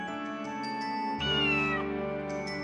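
A cat meows once, loud and close, in the fantasy strategy game GrimGrimoire Once More, a single drawn-out cry over sustained orchestral music.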